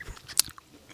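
A person bites into a pear, one sharp crisp crunch followed by a few soft chewing sounds, close and brief.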